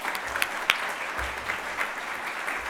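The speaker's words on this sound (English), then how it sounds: "So join me in thanking these artists and officially clapping the festival into existence." An audience claps at the launch of an emerging writers' festival, a sustained, fairly close round of applause with a few sharper individual claps standing out.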